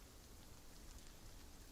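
Steady rain sound effect plays as a soft, even hiss of falling rain with faint low rumble, continuous and quiet in the background throughout.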